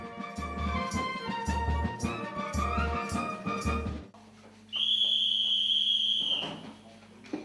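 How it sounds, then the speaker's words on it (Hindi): An army camp bedtime whistle at 10 pm gives one long, steady, shrill blast lasting under two seconds, sounding alone right after music fades out. "ठीक 10 बजे की सीटी ऐलान करती है सोने के वक्त का।"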